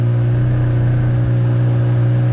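A 30 horsepower outboard engine on a small boat runs at a steady, moderate speed, a loud, constant droning hum with no changes in pitch and no talk.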